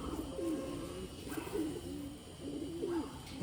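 A Malwai-breed pigeon coos softly in repeated low, throaty phrases, about three calls, over a quiet background hum.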